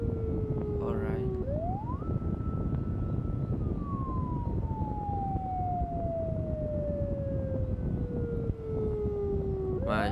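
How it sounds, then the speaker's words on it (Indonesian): An ambulance siren wails in Malaysian traffic, a long tone gliding up and slowly sweeping down, heard at a moderate distance over steady road rumble with brief voices. "Hey, ambulan dah sampai."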